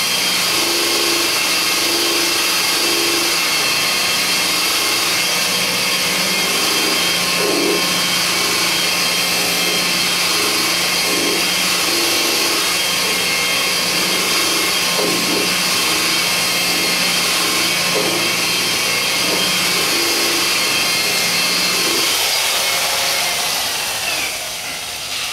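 A power buffer running with polishing compound gives a loud, continuous motor drone with a faint rhythmic wobble for about 22 seconds before easing off slightly at the end.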